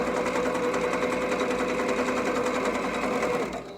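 A sewing machine runs steadily in zigzag stitch mode along one side of a fabric opening, its fast even mechanical whir continuing alone for several seconds before easing off at the end.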